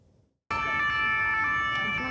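An emergency vehicle siren wails loudly and steadily after a brief quiet start, its sustained tones ringing over a rumbling street background in Paris during the Notre Dame cathedral fire.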